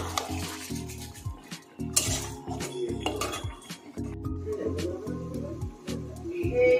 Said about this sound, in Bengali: মশলাটা বেশ কষানো হয়ে গেছে, আর এর সঙ্গে এখন চিকেনটাও কষানো হবে বেশ ভালো করে।